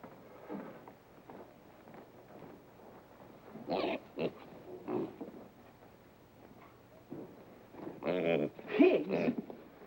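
Pigs grunt and squeal in short bursts from a 1953 sitcom scene, with faint voices mixed in; the animal noise grows louder and busier toward the end.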